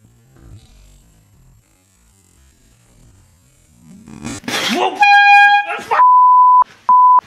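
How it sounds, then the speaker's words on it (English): After a quiet stretch, a loud blaring air horn sounds in several bursts, the last two short and steady, close and piercing. "This is a air horn."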